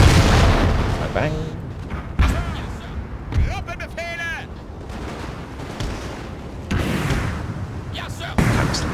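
Artillery batteries in Napoleon: Total War fire canister shot in loud, sudden blasts that punctuate ongoing battle noise, with voices shouting and talking between the reports.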